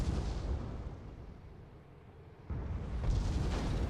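Incoming weapon fire in a video game battle comes through as deep, rumbling booms. A heavy low roll dips in the middle, then a sharp louder burst starts a second rumbling wave.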